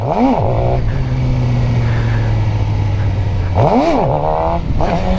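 A stock Suzuki GSX-R 600 sportbike engine in first gear, ridden during wheelie practice, loud and close, holds a steady drone, then revs sharply up and back down twice, near the start and again toward the end.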